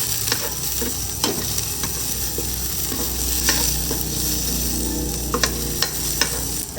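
Garlic sautéing in a pan while sinigang is cooked, a steady close sizzle with repeated clicks and scrapes of a spoon stirring, continuous and with no voices.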